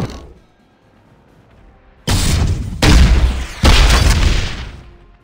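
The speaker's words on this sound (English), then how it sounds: "Enemy turret destroyed." Loud game explosions as an enemy turret is destroyed in Vainglory 5v5, three heavy booming blasts stacking one after another after a quiet stretch, each sustained and roaring.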